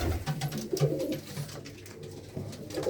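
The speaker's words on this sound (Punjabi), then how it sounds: "ਇਹ ਬਾਈ ਇੱਕ ਖੁੱਡਾ ਜਿਹਦੇ ਵਿੱਚ ਸਾਰੇ ਦੇ ਸਾਰੇ ਵੱਡੇ ਕਬੂਤਰ ਨੇ" Pigeons cooing inside a loft of large birds, soft repeated low coos close by over a faint background hum.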